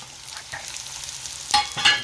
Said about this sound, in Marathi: आणि मटरची तर बघायचंच काम नाही, चांगलं असं फ्राय होऊ द्यायचं 2 मिनिट